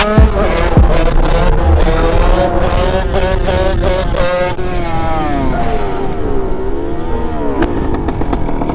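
A motorcycle fitted with an 86 Italkit engine kit revs hard nearby, loud rising and falling engine tones with crackling pops, at a bike gathering.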